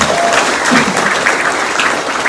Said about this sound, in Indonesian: Tepuk tangan buat PTBS.